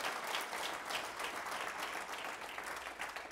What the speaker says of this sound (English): Somebody clap your hands and give glory to Jesus Christ.